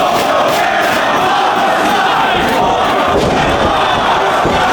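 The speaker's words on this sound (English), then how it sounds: "Crowd trying to rally behind Cabana here." At a 2008 Ring of Honor pro wrestling event, a dense arena crowd cheers and chants continuously in a loud, sustained roar without letup.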